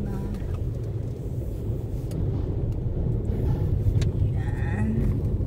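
Cars boarding a BC Ferries vessel on the Vancouver–Nanaimo route give a steady, low rumble of engines rolling aboard, moderately loud and continuous, with faint voices in the background.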